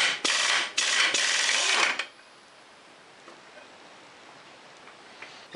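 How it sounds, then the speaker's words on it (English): Ratchet with a 22 mm socket turning on a Polaris 400L engine to pull the clutch, a loud, close whirring ratchet burst lasting about two seconds, then quiet background. "I'm going to thread this in to the right, you know, tighten it until the clutch comes off"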